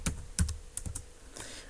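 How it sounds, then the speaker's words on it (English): Several sharp keystrokes on a computer keyboard while entering an author's name into a search field of a C-programming book store program, irregular taps spaced across the moment, close and alone. "So by typing James Clear"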